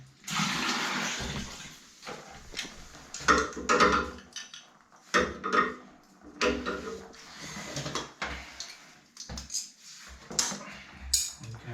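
Water splashes and pours out of a container while swapping a radiator on iron pipes, amid clattering, with bursts of running water and knocks nearby.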